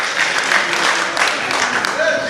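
An audience at a 2011 solo concert in Aktau applauds in a dense, continuous patter of clapping, with a voice speaking over it and a brief tonal sound near the end.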